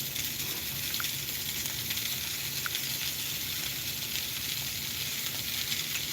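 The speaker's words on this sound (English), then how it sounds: "Oh, listen to that sizzle." Food frying in a hot pan at home gives off a steady, soft broadband sizzle and hiss that holds evenly throughout, fairly quiet and with no talking.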